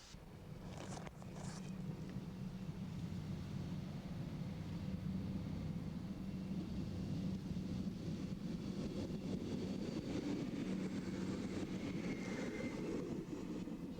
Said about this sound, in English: she must wait for a northbound diesel express